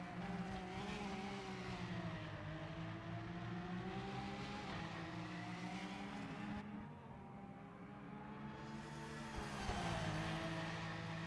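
Racing car engine in the sim racing game PMR, a steady droning, harmonic-rich whine at close range that wavers and dips mid-way, heard alone with no voices.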